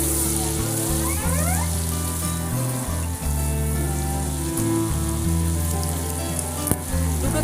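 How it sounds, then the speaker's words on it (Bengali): Panch phoron five-spice seeds frying in hot oil, cooked as part of a sea crab and taro curry, giving a steady, loud, close sizzle throughout with no talk. "5 ফোড়ন নিয়েছিলাম, দিয়ে দিলাম। এগুলো একটু ভালো করে ভেজে নেব।"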